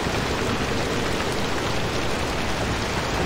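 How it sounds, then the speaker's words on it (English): Steady, dense rain from the Pacific Drive video game hisses continuously at an even, fairly loud level, with no voices over it. "Is it raining, or is there something a little bit more than that going on right now?"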